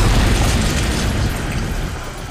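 A video game explosion in Resident Evil 2 Remake sounds as a loud, full-spectrum roaring boom that sustains and slowly tails off, close and dominant, with no speech over it.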